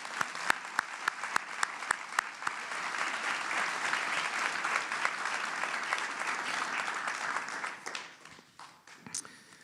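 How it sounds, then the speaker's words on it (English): An audience at a desegregation recognition event claps in sustained, dense applause for several seconds, with a few sharp individual claps standing out at the start before it thins and tapers off near the end. "let's give them a round of applause."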